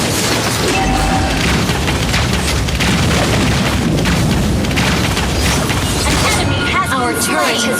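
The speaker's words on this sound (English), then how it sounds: "Our turret has been destroyed." An in-game turret is destroyed in the Mobile Legends battle, with loud, sustained explosive booms and crashing mechanical effects filling the clip, layered with game voices and sound effects.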